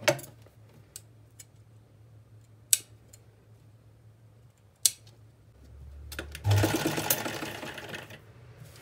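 Domestic sewing machine stitching a pocket onto a palazzo trouser, heard as a steady close motor run near the end after a stretch of quiet broken by a few sharp clicks.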